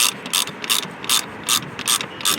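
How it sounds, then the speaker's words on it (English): A hand ratchet tightening a fastener into a metal J-clip on a 2024-2025 Tesla Model 3, with rapid clicking pawl bursts in about seven even strokes, close and crisp with no speech. "I always like to grab up by the ratchet head."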